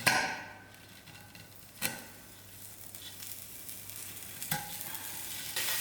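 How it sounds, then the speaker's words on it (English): Vermicelli frying in margarine in a pan for a creamy Indian dessert, heard as a soft, steady sizzle with a few sharp spatula knocks against the pan, quiet and close, with no talking. "Now I'm going to allow my vermicelli to fry with my margarine"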